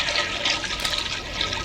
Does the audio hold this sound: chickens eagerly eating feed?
no